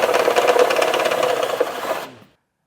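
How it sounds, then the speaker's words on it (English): A step bit drilling out a hole in the steel frame of a 2024 Toyota Camry for a Curt trailer hitch receiver, a steady loud grinding rasp with slight pulsing that stops abruptly after about two seconds. "we'll get our safety glasses on and start drilling this out"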